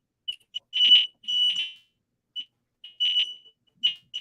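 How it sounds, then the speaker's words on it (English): Household smoke detector sounding indoors while someone cooks, a piercing high electronic beep in irregular short and longer bursts separated by gaps of silence, close and fairly loud. "What's that? Your smoke detector?"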